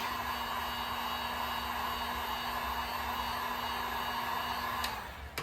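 A heat gun warms the stock decals on a Yamaha FZ6R motorcycle for removal: a steady, close blowing hiss with a constant hum that holds evenly for about five seconds, then cuts off abruptly.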